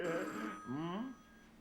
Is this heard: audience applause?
no